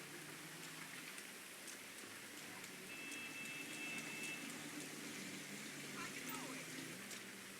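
Rain falls in the online game GTA V Online as a soft, steady patter on surfaces. The sound is faint and continuous, with a distant low rumble beneath it.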